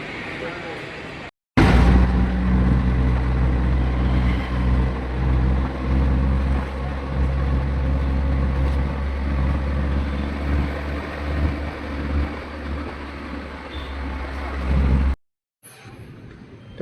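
An auto rickshaw ride from Dombivli station after getting off a train: a steady, close, low engine drone and rumble runs throughout, with short breaks at the start and end and no clear talk.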